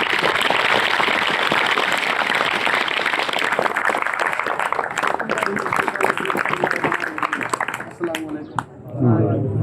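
A school Parents' Day audience at GHS Khuhawar claps loudly and steadily to welcome a professor to the stage. The dense applause fills most of the stretch, then fades as a voice begins speaking.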